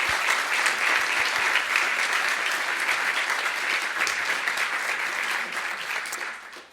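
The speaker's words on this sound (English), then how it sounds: "So I'd like a round of applause for the Muellers." Audience at a university distinguished lecture applauding, sustained dense clapping from a large crowd that fades out at the end.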